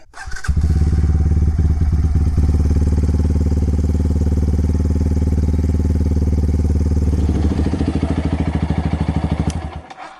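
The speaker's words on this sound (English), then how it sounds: "let it idle for like 30 to 60 minutes so the paint can harden" A Brixton Felsberg 125 motorcycle engine with a newly wrapped, painted exhaust starts and idles steadily with a loud, even putter for several seconds, then cuts off near the end.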